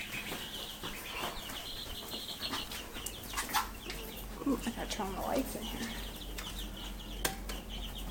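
Chickens cluck and flap their wings inside a coop during egg collecting, with scattered short calls and bursts of flapping under a person talking nearby.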